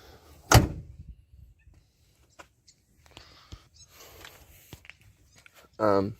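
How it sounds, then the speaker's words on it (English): A door on a 1969 Buick GS shuts with one solid thump near the start, followed by quiet handling clicks, faint shuffling and a brief louder sound at the end. "Watch this, see how good these doors shut."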